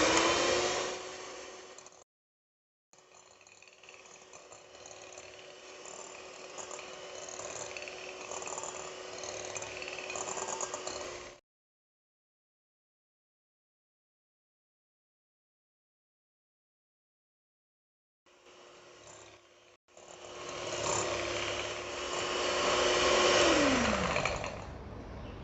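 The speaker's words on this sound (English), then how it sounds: "Now you have to beat this butter so that it becomes nice and fluffy." An electric mixer whirs steadily through salted butter being beaten until fluffy, running in two long stretches with a brief stop early on, a long silent gap in the middle, and a slowing whine near the end.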